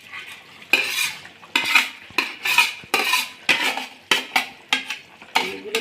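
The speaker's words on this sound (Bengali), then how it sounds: "এই যে পনিরগুলো দিচ্ছি।" Paneer pieces are dropped into a boiling gravy and stirred, giving repeated loud metallic scrapes and clinks of a spoon against the pot in a steady rhythm, with a soft bubbling underneath.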